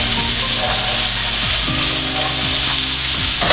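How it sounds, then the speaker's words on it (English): Peppers cooking down in a hot frying pan give a steady, loud, close sizzle with occasional scraping stirs, and no talk over it. "And then we're gonna start to cook down our peppers."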